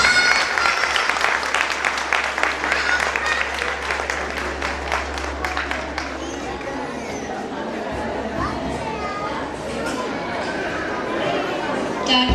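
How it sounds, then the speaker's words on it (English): Applause from the audience at a Montessori school's annual day celebration for the little children, broad clapping mixed with crowd chatter and a low hum, the clapping thinning gradually toward the end. "A very big round of applause to the little ones"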